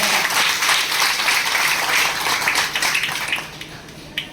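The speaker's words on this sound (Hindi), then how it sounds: "मैं चाहूंगा जोरदार ताली" An indoor audience at a business seminar breaks into loud, sustained applause, a dense wash of clapping that gradually thins out over several seconds.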